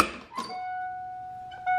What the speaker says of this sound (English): Annoying ass door dinger and everything.